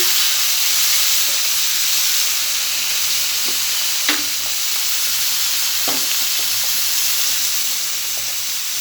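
Pointed gourd (potol) frying in oil with salt, a loud, steady, hissing sizzle close up, broken by a few sharp clicks of a utensil stirring.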